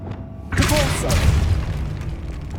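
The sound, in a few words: Depulso spell blast in the video game Hogwarts Legacy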